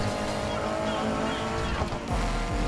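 Honda Civic drifting in the Need for Speed Heat video game, with a steady loud engine drone and tire noise throughout and a brief swell near the end.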